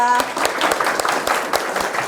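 Students clapping at the end of a year-long English class, a moderate scatter of separate claps in an uneven rhythm, with a brief voice at the very start.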